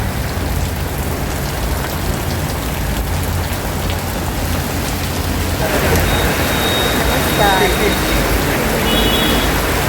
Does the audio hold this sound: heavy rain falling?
yes